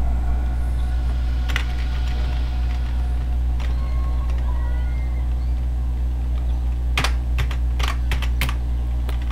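A PC computer keyboard sounds through the constant loud hum and rumble of game audio, with scattered single key presses early on and a quick cluster of sharp clicks near the end.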